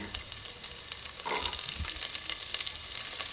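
Garlic cloves sauté in a pan, a soft continuous sizzle with faint stirring scrapes and a few light crackles, heard alone at close range.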